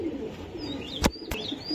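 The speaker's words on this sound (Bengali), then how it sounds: "এই লাস্টে 2071 একটা রেস করা কবুতর" Soft cooing from a racing pigeon sits low under a quiet room, broken by two sharp clicks in the middle; a faint higher chirp drifts in and out.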